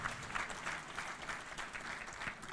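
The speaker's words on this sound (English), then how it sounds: "Big round of applause for Dr." Applause from an audience at an association meeting, a soft, distant, steady patter of many hands clapping throughout.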